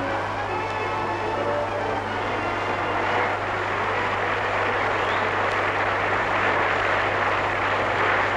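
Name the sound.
propeller aircraft flying over, Royal Australian Air Force planes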